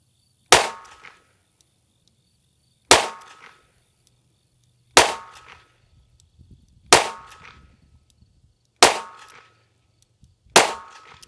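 Six sharp shots from a Kimber K6S revolver firing Hornady Critical Duty rounds, each a loud cracking bang with a short ringing tail, evenly spaced about two seconds apart outdoors.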